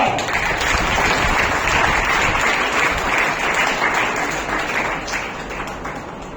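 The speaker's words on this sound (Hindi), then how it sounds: "जोरदार तालियां" An audience claps for a second runner-up at an oratory award ceremony, with sustained, loud crowd applause tapering slightly toward the end.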